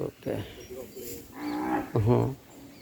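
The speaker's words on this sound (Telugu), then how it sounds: "మొత్తం 200 ఆవులు ఉంటాయి" Cows at a goshala (cow shelter) moo several times, with one strong, low bellow near the end and softer lowing before it, at moderate distance.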